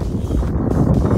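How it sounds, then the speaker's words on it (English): Strong wind buffets the microphone at an outdoor youth soccer game in Hawaii, a loud, continuous low rumble and roar throughout with no speech. "It's so windy, guys."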